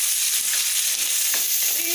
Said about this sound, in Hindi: अभी इसमें प्याज ऐड कर देती हूँ, और प्याज को जब तक फ्राई करूंगी जब तक ये गोल्डन रेड ना हो जाए